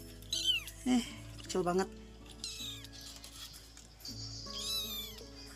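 A small purebred kitten gives several high, thin meows in short bursts, close and clear, with someone talking softly in Indonesian between the cries.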